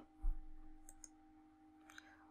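Computer keyboard keys and a mouse click sharply a few times at close range over a steady low hum, as a ruler is brought up in Illustrator CC 2017, quiet with no talk.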